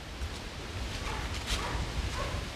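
Dogs bark faintly in the distance on Hampstead Heath in London, a few short yips over a low rustle of wind and leaves in an autumn park.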